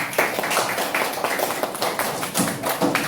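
Children clapping in a classroom during a lesson on forces: a steady burst of many small hands clapping together, fairly loud and close, continuing for a few seconds.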